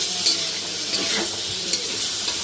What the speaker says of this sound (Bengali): আলু পটলটা ফ্রাই করে নিতেছি